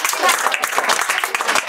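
Brief burst of classroom clapping for a student's first test result in a free government-school class, a quick patter of many hands, fairly close, with a voice speaking over it.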